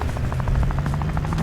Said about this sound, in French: Ils ont ramené l'hélico, mon frère